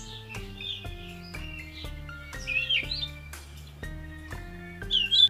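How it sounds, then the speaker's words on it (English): Birds chirping and tweeting in bright, repeated calls over a steady musical backdrop, the calls growing louder and busier toward the end. "like the birds chirping."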